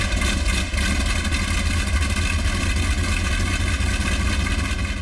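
A Halifax bomber's 1,700-horsepower Hercules radial engine runs at a steady, loud, dense roar with constant rumbling throughout, no voices over it.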